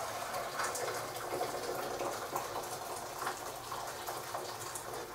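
Freshly boiled water poured from a kettle into a pot at home, a steady close gushing and splashing that runs unbroken the whole time, with no talking.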